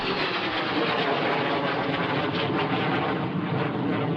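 A loud, continuous roar of a jet passing overhead with afterburner lit at an air show fills the whole stretch, broad and steady without letting up.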